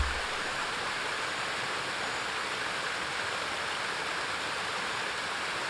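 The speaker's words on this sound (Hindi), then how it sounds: "डीप शरीफ के खूबसूरत वाटरफॉल का नज़ारा हमारे सामने आता है" The waterfall at Deep Sharif in Soon Valley, Punjab, rushes with a constant, dense roar of falling water, loud and unbroken throughout.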